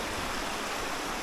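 River water rushes in a steady, close, full wash of noise with no breaks and no voices.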